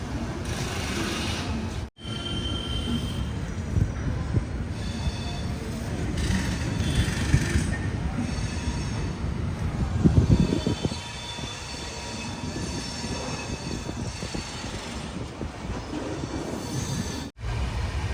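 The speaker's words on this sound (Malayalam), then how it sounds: "ട്രെയിൻ ഇപ്പോൾ ഒരു സ്റ്റേഷൻ സ്കിപ്പ് ചെയ്യാണ്." A sleeper-class coach on the Madhya Pradesh Sampark Kranti Express rushes along at about 110 km/h, a loud continuous rumble of wheels and rail with occasional squeal. Two brief cuts break the sound.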